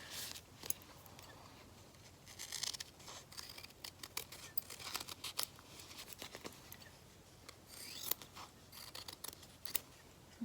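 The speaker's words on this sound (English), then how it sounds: "Can't cut it too close because I don't want to cut the stitching" Scissors snip through fabric around sewn stitching in a quiet indoor setting, a run of short crisp cuts at close range with small pauses between them and no talking.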